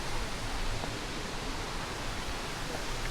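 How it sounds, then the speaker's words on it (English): The main waterfall at Glendalough in the Wicklow Mountains gives a steady, dense broadband rush of falling water, continuous and fairly soft, with no voices over it. "So this is the main waterfall."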